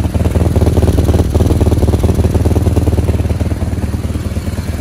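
Close, loud idle of a cafe racer motorcycle fitted with DB Killer baffles, a steady rapid pulsing thump with mechanical clatter and slight irregular lumps, heard alone without voices.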